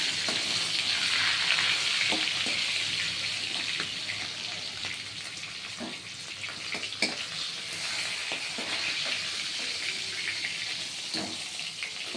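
Continuous sizzling of fish heads frying in hot oil, close and steady, with occasional clinks and scraping from stirring.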